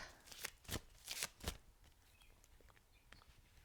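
A numerology card deck is shuffled in several quick riffled bursts, close and fairly quiet, followed by faint soft handling of the cards.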